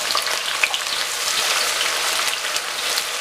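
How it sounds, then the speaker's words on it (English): Onions sautéing in hot oil for a Cameroonian chicken DG, giving a loud, continuous crackling hiss with scattered pops, close up and alone. "Onions into hot oil,"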